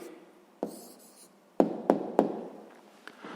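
Pen strokes and taps writing down a math answer on paper, a handful of short, close knocks and scratches spread over a few seconds in a quiet room.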